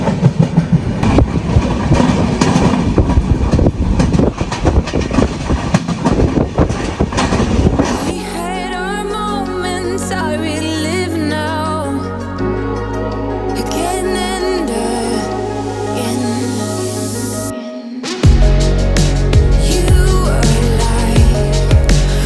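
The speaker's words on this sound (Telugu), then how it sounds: "మన ట్రైన్ వచ్చేసి పాలకాడ్ జంక్షన్ కి అయితే వచ్చింది" The Kerala Express rolls on rails near Palakkad Junction after a ghat section, a loud, continuous rumble with rhythmic clickety-clack of wheels over joints and shifting tonal drones from the moving carriages.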